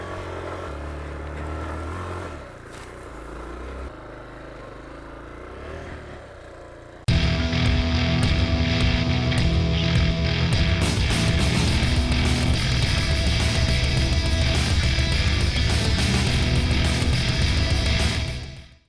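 A Honda XR250L dual sport motorcycle engine hums quietly at first, then jumps to a loud, close revving roar as the bike rides along rural Tasmanian roads, shifting pitch through the gears.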